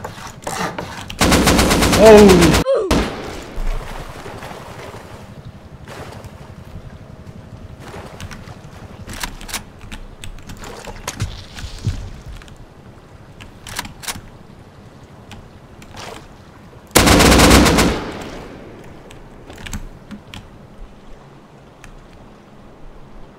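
Gunfire in a video game, two loud sustained bursts of rapid fire, one early and one late, with scattered faint shots and clicks between them and a brief exclamation.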